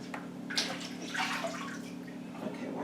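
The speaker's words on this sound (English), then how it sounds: "Okay, wash my hands." Hands being washed under a running tap while making homemade Jamaican coconut milk, with a steady splash of water and a few louder splashy bursts, heard close over a faint low hum.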